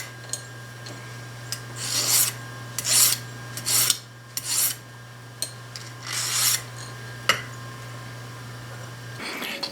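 Hand file rasping across a cheap survival-kit knife blade with a hacksaw-like steel feel, six or seven separate strokes in an uneven rhythm over a low steady hum, close and clear.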